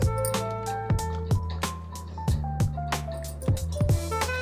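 Thick fish pulusu curry with coconut is stirred in a pot, making close, wet squelching strokes that repeat roughly every third of a second in an uneven rhythm.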